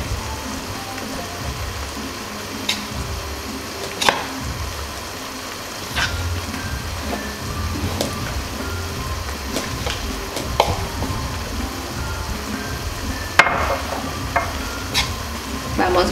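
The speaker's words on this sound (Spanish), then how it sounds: "Le adicionamos la harina y poco a poco vamos revolviendo." Chicken being turned in a pan as flour is worked in: a steady scraping and stirring against a gentle sizzle, with sharper utensil clinks recurring every couple of seconds.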